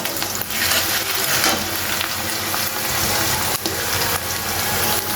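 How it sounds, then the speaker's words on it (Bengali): Onion, garlic and green chilli fry in oil in a pan for a dried fish and potato curry, giving a loud, dense, continuous sizzle and crackle close by, with faint stirring. "পেঁয়াজ, রসুন আর কাঁচামরিচ ভাজা হয়ে গেছিল"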